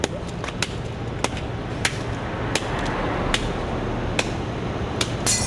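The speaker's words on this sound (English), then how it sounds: "destroy the BlackBerries with a hammer" Repeated sharp hammer strikes land at irregular intervals, about a dozen hits over a steady background hiss.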